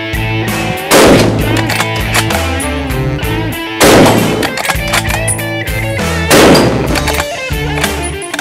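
Three loud gunshots crack at a boar target during hunting practice at a shooting school, evenly spaced a few seconds apart, with ringing echoes and a low hum between shots.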